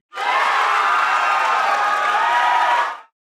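Crowd of cartoon pony characters cheering in an animated show, a dense, loud burst of shouts and whoops that swells in, holds steady for about three seconds and cuts off abruptly.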